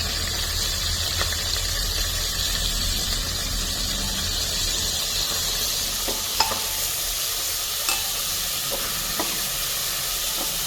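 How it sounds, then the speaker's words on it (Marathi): Chopped tomatoes sauté with ginger garlic paste in a pan, giving a steady, even sizzle with a few faint stirring clicks and no talking. "आता टोमॅटो थोडे हे मऊ होईपर्यंत आपण परतायचे"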